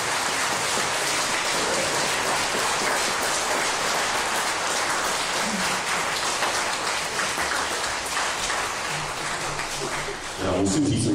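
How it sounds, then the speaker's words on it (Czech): Loud, continuous applause from the audience at a stand-up comedy show in Bzenec fills the room for about ten seconds, then a voice begins speaking as the clapping dies down. "Zatleskejte"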